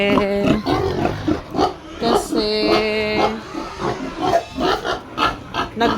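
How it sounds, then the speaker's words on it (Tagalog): Grunting and squealing from a boar pig on a farm mixed with a person talking nearby, the animal noises coming in uneven bursts. "Yung isa naming barako."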